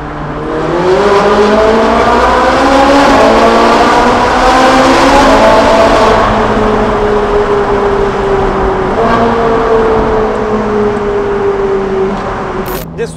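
A Ferrari 458 Italia's V8 with its stock factory valved exhaust revs loudly and continuously, rising and falling in pitch through repeated climbs, close and strong with no talk over it.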